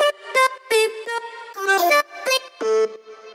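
Vocal chops drenched in reverb and delay: a quick sequence of short pitched syllable stabs whose tails smear and echo into one another, filling the gaps with a washy, lingering ambience, loud and upfront.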